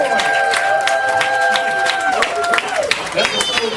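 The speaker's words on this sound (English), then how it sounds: "Let's give a round of applause." Crowd applause and cheering sound effect on a podcast, a dense burst of clapping with scattered whoops that runs steadily the whole time, with tonal musical lines over it.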